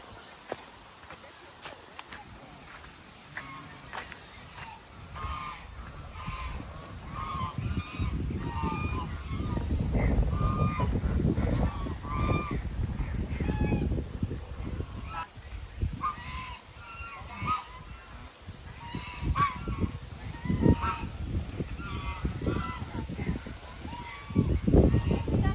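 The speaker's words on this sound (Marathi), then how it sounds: "आता आपण बदक बघायला जाऊया तिकडे" Ducks and geese honking in repeated bursts at a resort picnic spot near Mumbai, fairly close and steady throughout, with footsteps and people talking in the background.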